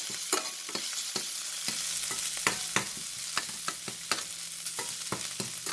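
Crushed ginger, garlic, green chilli, cumin and pepper sauté in a pan for drumstick-leaf rasam, with a steady close sizzle punctuated by regular sharp clicks of a spoon scraping the pan, and no speech.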